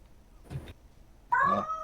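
A house cat lets out two meows, a short muffled one followed by a louder, drawn-out wailing cry, close by in a quiet room.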